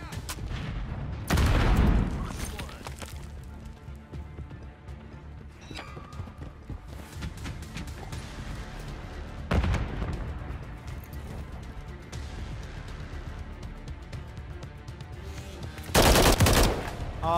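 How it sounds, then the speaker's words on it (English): Explosions and gunfire in a first-person shooter video game: heavy broadband blasts burst out at intervals over a steady bed of rattling shots and battle noise, loud and close, with no speech. "Grenade."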